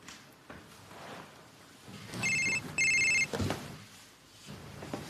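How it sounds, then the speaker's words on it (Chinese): A telephone rings in two short electronic bursts while a call is placed, fairly close in a quiet room, with faint rustling and a soft knock around it. "你给小冷打个电话问问"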